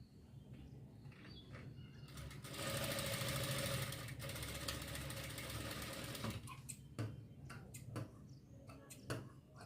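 A sewing machine stitches a baby frock in a steady, rapid, close whir for several seconds, then slows into scattered ticks and short clicks, with no voices.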